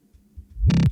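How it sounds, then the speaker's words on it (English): Reversed kick drum sample from a funk track: a faint low rumble that swells into a loud, sucking boom cut off abruptly at the peak, heard alone. "this one is the kick sample reversed."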